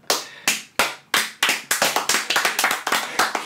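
Hand claps at the start of a podcast recording: a few spaced, sharp claps that quicken into a rapid, uneven run of crisp claps, close and alone, with no talk.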